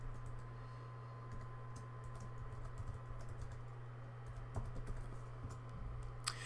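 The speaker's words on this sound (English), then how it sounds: "First, we need to type in our email address." Someone types an email address on a computer keyboard, giving a quiet, steady patter of key clicks with a few louder taps. A constant low hum from the room or the electronics runs underneath.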